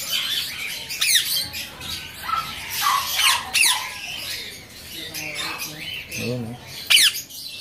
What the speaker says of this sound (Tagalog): Ang ganda po ng mga ibon niya.